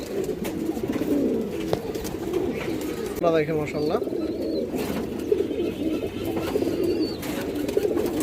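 China Khaki male pigeons coo in low, repeated throaty rolls, with ambient market bustle around them; someone talks over them throughout.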